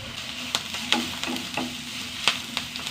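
Chopped onion and green chili fry in a pan, a steady close sizzle broken by several sharp clicks and scrapes of stirring, with no voices.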